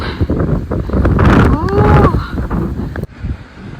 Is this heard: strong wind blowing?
yes